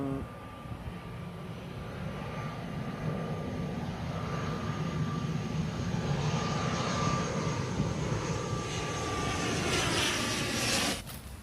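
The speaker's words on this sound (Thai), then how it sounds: "ก็จะมีเครื่องบินขึ้นลง" Steady, loud engine roar of an aircraft taking off or landing at U-Tapao airfield, heard from a fishing spot nearby, droning continuously before cutting off abruptly near the end.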